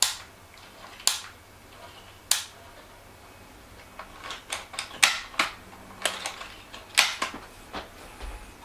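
Sharp mechanical clicks of a Polaroid camera shutter being set and released, spaced irregularly and close, with small ratcheting sounds in between.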